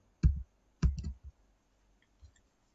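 A few crisp computer mouse clicks in quick succession while working in the Eclipse IDE, close and isolated against near silence, with a faint tap trailing after.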